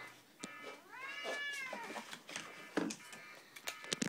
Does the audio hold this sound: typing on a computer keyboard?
no